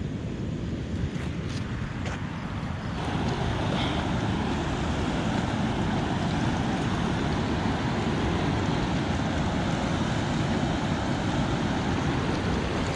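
Recollet Falls, a waterfall and rapids on the French River, roaring as a dense, steady broadband rush of water, loud and unbroken, with gusts of wind buffeting the microphone and no voices.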